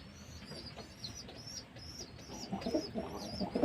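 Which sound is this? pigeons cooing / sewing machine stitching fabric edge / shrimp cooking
pigeons cooing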